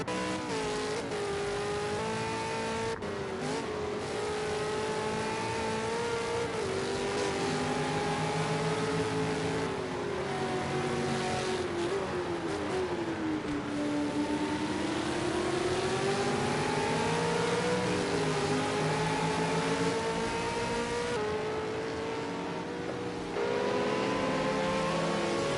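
Supercars race around the Bathurst circuit in a 2022 ARC season finale: a steady, fairly distant engine drone rises and falls in pitch as cars rev and accelerate, heard from trackside for the whole stretch with no voices.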